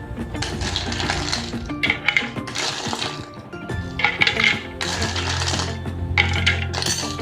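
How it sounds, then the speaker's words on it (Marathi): Ice cubes dropped into a mixer jar already holding milk and crush for a milkshake, several bright clinking bursts of cubes knocking against the jar in quick clusters, close and fairly loud, with a low hum beneath. "यामध्ये घालायचे आईस क्यूब्स।"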